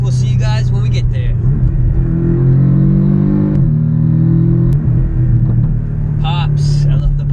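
A Ferrari V12 revs hard with rising and falling engine tones and crackling exhaust pops, loud and close, while people talk over it.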